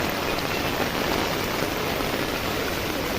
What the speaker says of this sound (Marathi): आणि तुम्ही सुद्धा पण मजा घ्या पावसाची एन्जॉय